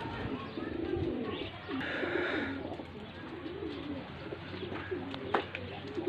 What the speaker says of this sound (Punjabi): ਆਹ ਦੇਖੋ ਕਬੂਤਰ ਇੱਥੇ ਬਹੁਤ ਕਬੂਤਰ ਆ ਕੇ ਡਿੱਗਦਾ ਬਹਿੰਦਾ